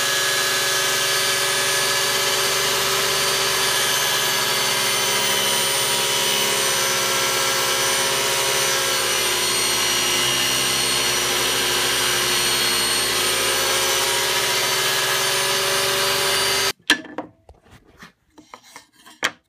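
A homemade 12 inch table saw rips through a long cut, its blade giving a continuous loud, harsh rasping whine close by for most of the stretch before cutting off abruptly into a few scattered knocks and clatters.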